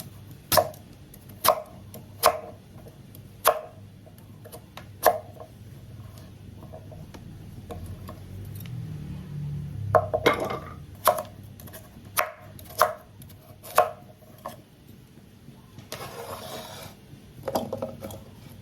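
Peeled purple sweet potato being chopped with a knife on a cutting board, sharp evenly spaced thuds in a steady rhythm, close and clear with no talking.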